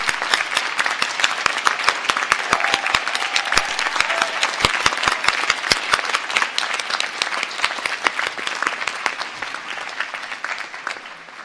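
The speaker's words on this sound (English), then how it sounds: "give a round of applause" Graduation audience at a Salford winter ceremony applauding steadily for about eleven seconds, a dense wash of many hands with sharp individual claps standing out, fading slightly at the end.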